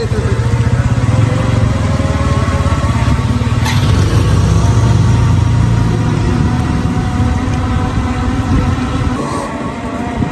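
Close, loud motorcycle riding: a steady rumbling engine drone with road and wind noise, holding on and easing slightly toward the end, with faint voices underneath.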